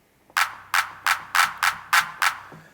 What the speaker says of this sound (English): classic 909 clap